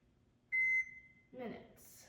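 A single steady electronic beep from an oven control panel while the timer is being set, clear and close, followed by faint voices.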